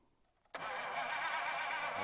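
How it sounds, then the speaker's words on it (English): A 1951 Buick Super that sat for 25 years fires abruptly after a near-silent moment, then settles into a steady, loud running roar. "Turn that engine."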